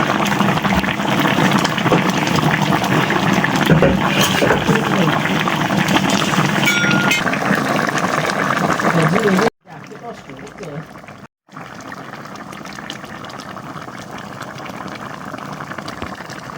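Fish curry simmering in a pan after water is added: a steady, loud bubbling boil with sizzle, then a sharp drop to a quieter simmer after brief pauses, with a voice talking over it.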